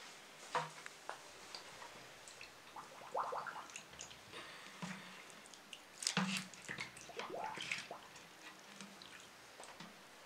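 Hands are washed with soap and water in quiet bursts of splashing, dripping and wet squishing, close but faint, with pauses between.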